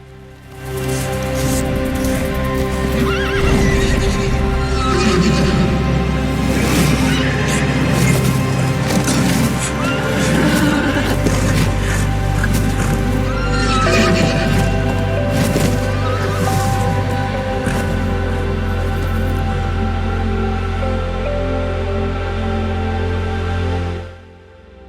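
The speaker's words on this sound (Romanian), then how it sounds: "din gâtul medusei au ieșit doi fii, dăruiți de Poseidon, Crisaor și calul înaripat Pegas" Horse neighing and whinnying with hoof clip-clop, used for the winged horse Pegasus, over a steady rain-like wash; loud and continuous for about twenty-three seconds with no talk.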